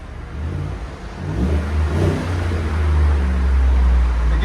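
Chevy Silverado 5.3L V8 with a Borla exhaust revving, a loud, deep rumble that swells and holds steady, close by with no talking.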